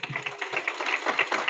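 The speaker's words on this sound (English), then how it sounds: "Round of applause for him." A room full of attendees at a PMI Montgomery County, Maryland chapter monthly meeting gives a round of applause: dense, steady clapping with crisp overlapping claps, close and fairly loud, with no talking.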